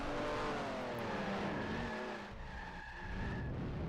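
A race car in a sim racing game brakes hard into a corner, its tyres skidding and squealing over a loud engine drone that never lets up.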